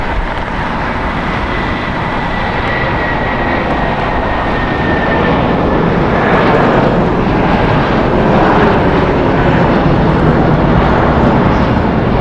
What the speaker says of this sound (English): Departing United Airlines, flight 2039 going to Chicago. Boeing 757-300 is 21 years old.